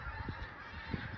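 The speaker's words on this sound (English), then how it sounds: "The geese are back." Geese honking outdoors on a farm, two short honks about half a second apart, fairly close and clear over steady background noise.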